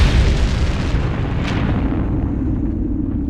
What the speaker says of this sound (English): a massive dying star finally collapses, igniting a supernova explosion